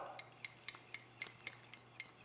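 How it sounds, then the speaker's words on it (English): Spoon stirring salad dressing of pepper and lemon juice in a bowl, a steady series of about ten light metallic clinks and taps in even rhythm, close and fairly quiet, with no talk. "And we are going to stir it up before putting it on our salad"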